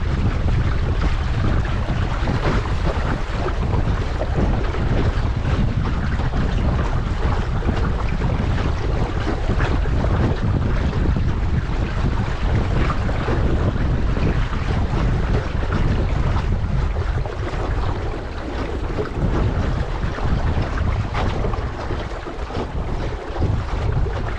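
Steady rush of water along a moving sailboat hull, with continuous gurgling and sloshing under strong wind buffeting the microphone, loud and unbroken throughout.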